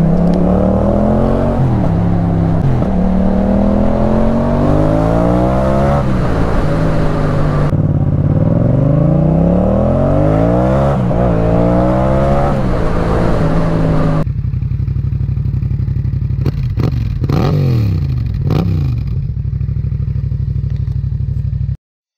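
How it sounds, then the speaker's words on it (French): A 2019 Yamaha MT-07 motorcycle accelerating hard, its loud engine note climbing through repeated rising rev sweeps with brief drops at gear changes, close and continuous, with no voices. "ça accélère plutôt bien, hein,"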